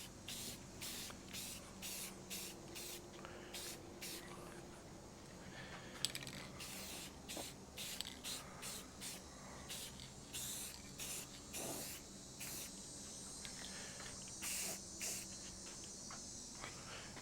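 An aerosol spray can hisses in repeated short bursts with brief pauses between them, laying a coat of paint on a Suzuki RV125 fender. The passes are close and rhythmic over a faint background hum.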